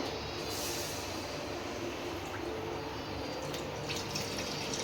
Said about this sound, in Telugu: ఇప్పుడైతే పాలు పోసేద్దాం